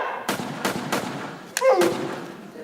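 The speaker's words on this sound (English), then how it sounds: "I said don't waste Cannon fire!" Several heavy booms of cannon fire sound effects in a high school stage play, in quick succession, sharp and loud with short echoing tails, followed by a brief whistling streak.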